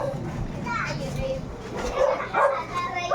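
A dog barks and yips a few times amid children's chatter and other voices, the barks moderately near and partly mixed with the talk.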